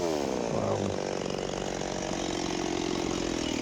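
A ported Stihl MS360 chainsaw bucking hard maple blowdown runs close and loud at steady high revs, its engine note dipping briefly under load in the first second before holding a continuous rasping whine.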